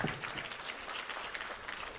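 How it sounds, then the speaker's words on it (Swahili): An audience at the official opening of the 46th Sabasaba international trade fair applauds the Minister, a dense, even patter of many hands clapping through the whole short moment. "Naomba makofi mengi sana"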